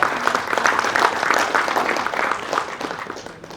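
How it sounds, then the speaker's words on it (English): A seated audience at a motivational stress-management session gives a round of applause, dense steady clapping that fills the whole stretch and slowly tapers toward the end. "can I have a round of applause for each one of you who is sitting here?"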